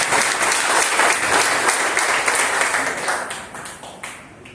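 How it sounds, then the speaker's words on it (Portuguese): Church congregation applauding during a worship service, a thick burst of clapping that stays full for a few seconds and then tapers off, with a voice speaking over it. "Você pode aplaudir a Jesus pela vida deste homem."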